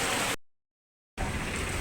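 Heavy rain pours in a dense, steady hiss, broken by a brief dropout to silence before the downpour resumes just as loud.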